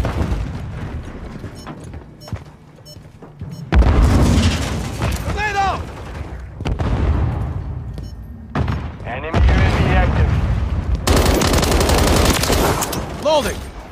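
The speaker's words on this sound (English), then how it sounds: "Grenade out!" Grenade blasts and rapid gunfire from a Call of Duty Modern Warfare Kill Confirmed match on the Departure map, loud bursts and booms in several waves with game voices calling out over the shooting.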